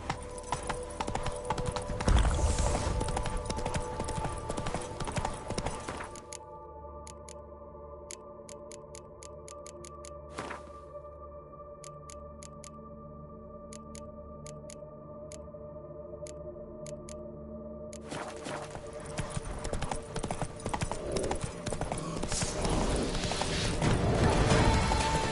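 Roach the horse galloping in The Witcher 3, with rapid rhythmic hoof clip-clops that are dense and loud at first and at the end and thin to sparse ticking hoofbeats in a quieter middle stretch.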